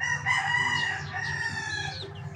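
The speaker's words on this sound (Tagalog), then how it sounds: "marami dito mga chicken. Maliliit na manok." Chickens cluck and crow close by, overlapping calls from several birds in a barnyard chorus.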